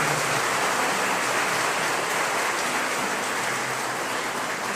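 A church congregation applauding at Mass, a dense, steady wash of clapping from many hands that stays loud and even throughout, with no break.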